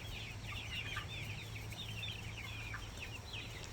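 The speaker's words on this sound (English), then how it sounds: "That Rhode Island red rooster." Rhode Island Red rooster among chicks, with soft, steady clucking and chirping calls repeating throughout against a constant low hum, moderately close and quiet, no talking.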